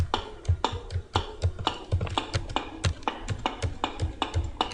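Computer keyboard keys are struck in an uneven, steady rhythm of close, crisp taps, with a low thump under many strokes, and no one speaks.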